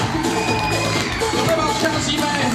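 Audience at a hip-hop dance show cheering and clapping after the performance, a dense continuous crowd roar with whoops and shouts, loud and close throughout.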